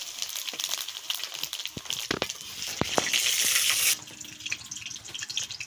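Dried red chillies, a bay leaf and cumin seeds dropped into hot oil for a jackfruit seed dal, a bright, hissing crackle that swells and holds for about a second before abruptly dying back to faint spitting, no speech.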